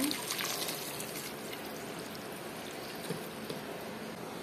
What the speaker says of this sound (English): Tapos, lagyan natin ng 4 cups ng water.